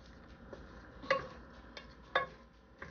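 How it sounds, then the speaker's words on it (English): Onions being stirred in a pot for a homemade chicken pot pie, heard as quiet scraping strokes with a few sharper clicks of the spoon against the pot, alone and fairly faint. "Now, I'm going to keep stirring"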